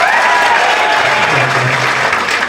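An audience at a job-aspirants' meet-up in Bulandshahr claps together in a loud, sustained burst, with a faint tonal ring over the dense patter.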